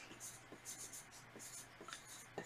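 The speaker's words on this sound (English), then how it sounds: "Then I'm just going to write down here" Pen writing words on paper for a kids' craft, producing soft, close scratching strokes in short bursts at a low level.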